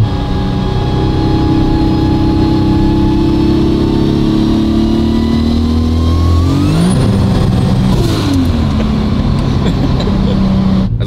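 A powerful 1000-horsepower Volkswagen Golf engine roars loudly and climbs steadily in pitch as the car accelerates hard, then shifts and keeps pulling, with wind noise building.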